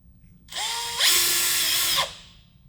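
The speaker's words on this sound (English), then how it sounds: "place the template on the wall and drill your second hole" A power drill spins up, whines steadily, then bites into a wall with a louder grinding whir for about a second before winding down.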